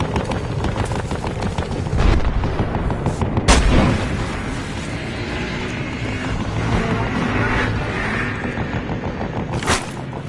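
Gunfire and explosive blasts from the Battlefield Hardline video game, with a loud sharp detonation bursting out a few seconds in and another near the end over continuous dense battle noise.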